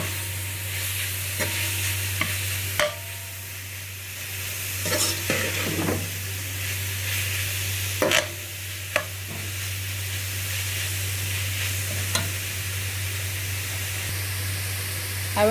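Chicken pieces with spices are stirred in a frying pot, a continuous hiss of frying under a steady hum, punctuated by sharp spoon knocks and scrapes against the pot at irregular intervals, close with no speech.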